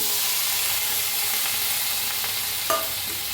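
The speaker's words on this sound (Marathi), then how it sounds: "आता आपण कढाई ठेवलेली आहे लोखंडाची तर त्याच्यात टाकूया कांदा" Sliced onion sizzles in a hot iron kadai, a dense steady hiss of frying close by with faint spatula scrapes and a single sharper clink near the end, no voices over it.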